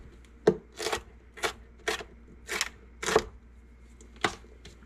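A knife dicing vegetables on a cutting board for canning, about eight sharp separate chops at an uneven, unhurried pace, close and clear with no talking.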